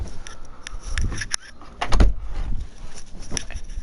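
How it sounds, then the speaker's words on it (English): A door being shut nearby, with a loud thud in the middle followed by faint rattling and handling noise. "Just had to close my door."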